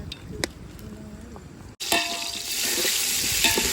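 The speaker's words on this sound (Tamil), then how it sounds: "எண்ணெய் சூடாயிட்டு கொஞ்சம் கடுகு வெந்தயம்" Mustard and fenugreek seeds hit hot oil in a pan and burst into a loud, steady sizzle that holds to the end, after a quieter start with a few clinks.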